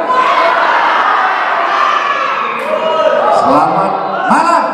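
A crowd of children at an evening school independence-day celebration shouting a loud group greeting in unison, a sustained close chorus of many voices.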